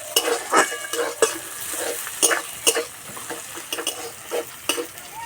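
Onion shoots sizzle steadily in a hot pan for an echor (young jackfruit) curry, with repeated scraping stirs and spatula knocks against the metal breaking through the crackle, close and fairly loud.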